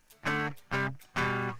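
Three buzzy, harsh electric guitar chords from an amp head played directly without cabinet simulation, fizzy and bright, each ringing briefly before the next.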